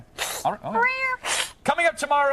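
A house cat meows twice on a live TV show set, short rising cries close to the microphone, the second one longer and mixed in with someone talking.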